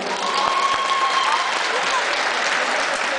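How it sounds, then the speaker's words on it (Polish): A concert crowd at a live hip-hop show in Poland claps loudly and steadily, close and dense, with shouts and cheering voices mixed into the applause. "Brawa dla tego człowieka."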